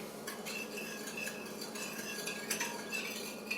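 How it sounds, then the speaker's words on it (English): A metal spoon stirs lemonade with sugar in a pitcher, close and steady clinking and scraping against the sides with a few sharper taps near the end. "And mix it up with your spoon."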